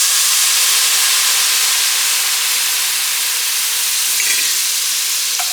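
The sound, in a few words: whiskey deglazing a hot pan of onions, sizzling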